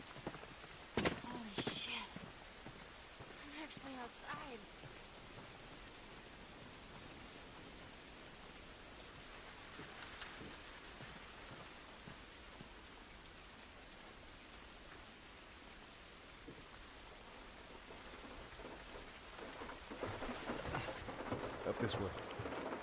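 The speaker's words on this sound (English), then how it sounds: "This rain ain't gonna do us any good." Steady rain patters across surfaces in a soft, continuous wash in the video game The Last of Us Part II, with a few sharper drips and light footsteps early on.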